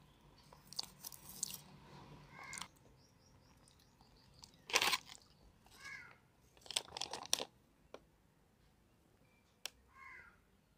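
Crunchy bites and chewing of Cadbury Oreo dipped cookies, several separate crisp bursts spaced irregularly and heard close up with no talking.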